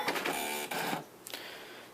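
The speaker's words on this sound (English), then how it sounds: "That noise you just heard was the cartridge moving down and up." An Apple ImageWriter II dot-matrix printer, hooked to an Apple IIc, clatters as its print cartridge shifts down and up: a couple of close, busy mechanical bursts followed by a sharp short knock and a quieter whir.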